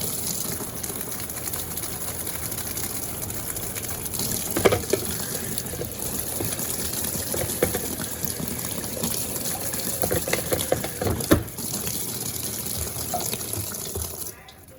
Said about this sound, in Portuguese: Jogo um pouco de água nas roupas, enxago o fundo.